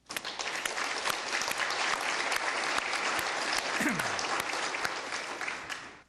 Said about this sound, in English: join me in giving these employees a round of applause